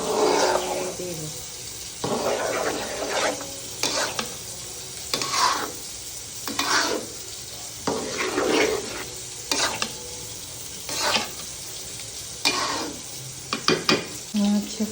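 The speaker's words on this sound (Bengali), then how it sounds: "এখন এই যে গরু মাংসগুলো সব আমি খিচুড়ির মধ্যে দিয়ে দিচ্ছি।" Beef stirred into khichuri in a pot: repeated scraping stir strokes about every second and a half over a steady sizzle, close and fairly loud, with no talk.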